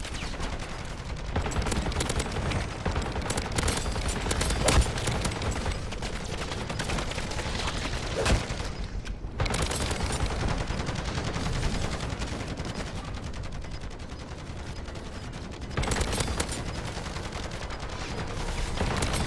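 A sentry gun in MW3 Zombies fires sustained automatic bursts, dense and continuous, with mixed gunfire and brief gaps layered into a loud, busy battle din.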